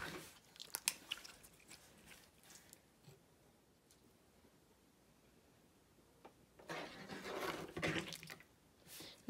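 Crunchy slime packed with beads squished by hand, giving quiet, close crackling pops in scattered bursts that swell into a denser crunching stretch near the end.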